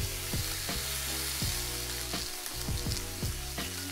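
Lamb searing in a hot pan, a strong steady sizzle close by with repeated low thuds and knocks from the pan being moved, no voices over it.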